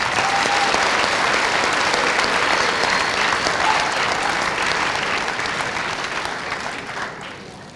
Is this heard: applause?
yes